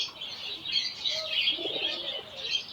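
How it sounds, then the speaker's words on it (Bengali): Australian doves in a cage at a bird market coo softly, with low murmuring calls under a continuous bright chatter of other small birds nearby. "নিচে অস্ট্রেলিয়ান ঘুঘু"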